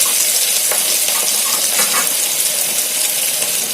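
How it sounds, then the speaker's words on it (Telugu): Onions frying and being stirred in a pan, a loud steady sizzle close by with scraping and clinking from the stirring, no talking. "చూడండి ఫ్రెండ్స్, ఆనియన్స్ అయితే వేగిపోయినాయండి. చాలా పర్ఫెక్ట్గా వేగిపోయినాయి కదా."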